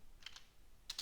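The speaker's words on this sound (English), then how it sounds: "We are just typing it." Typing on a computer keyboard: four soft, close keystroke clicks falling in two quick pairs, with near silence between them.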